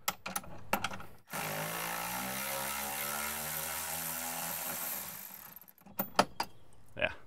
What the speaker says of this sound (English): I like electric ratchets, they're faster, but you gotta be careful on these.